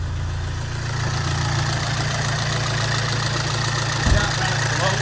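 A VW Amarok engine with a broken timing belt and the engine light on runs at a steady low idle, a loud constant drone with a brief thump near the end.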